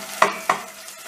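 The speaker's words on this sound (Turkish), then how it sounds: "Arkasından bir yemek kaşığı domates salatası atıyorum. Bunu da karıştırıyorum." Two quick scraping strokes of a spoon as tomato paste is stirred into softened onions in a pan, each a short, close scrape with a faint sizzle beneath and quiet pauses between.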